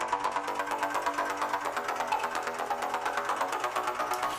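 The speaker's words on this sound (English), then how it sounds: "I added another bass line that sounds like this." A second, more open synth bass line from a dance track breakdown, panning side to side in a fast, even pulsing pattern, fairly quiet and alone with no voices.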